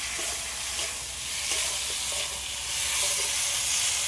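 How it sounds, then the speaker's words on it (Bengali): Potatoes fry in a pan together with already-fried potatoes, giving a loud, steady, hissing sizzle with faint scrapes of stirring, and no talk. "এবার ভেজে রাখা আলুটাও দিয়ে দেবো সবগুলো একসাথে আর একটু"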